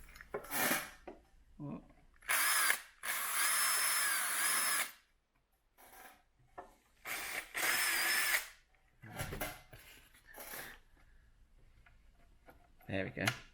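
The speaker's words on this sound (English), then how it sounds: "I can just drill it a bit more from this side." A power drill whines in several loud, short bursts separated by pauses, drilling out rivets on a Land Rover Defender L663 rear quarter panel, with clicks and handling noises and a brief spoken exclamation in between.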